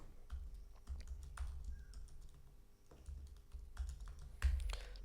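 A command typed on a computer keyboard while accessing a VPS over a terminal: a close, quiet patter of keystrokes at an uneven pace with short pauses, and no voices.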